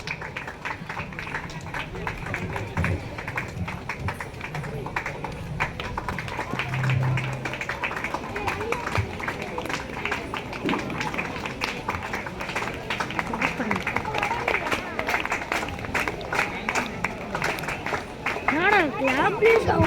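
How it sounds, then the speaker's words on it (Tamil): An audience applauds dancers at a stage event with steady, dense clapping that continues throughout, mixed with crowd babble and talk. "நாட்டிய கலைஞர்களும் பாராட்டு இந்த கைத்தட்டல் தான்."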